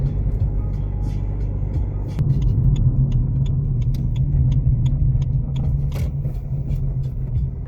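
Car on the road near Montagu, a steady low engine and tyre rumble from inside, growing slightly heavier partway through, with faint ticks and rattles over the drone.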